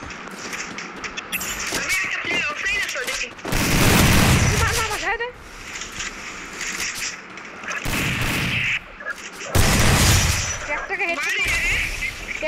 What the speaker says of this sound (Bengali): হেডশট মারছে একটা।